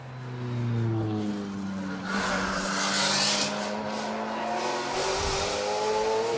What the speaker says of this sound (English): Rather more modern Maserati Trofeo MC on course now.